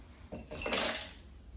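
A few ice cubes clatter and knock into a blender jar holding milk, a brief cluster of hard clinks and a rattling tumble.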